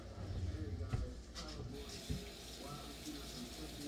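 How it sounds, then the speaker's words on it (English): Hands being washed under a running tap after handling eggs, a soft steady stream of water with splashes, fairly faint, with a person speaking partway through. "Wash the hands, because we know how eggs are."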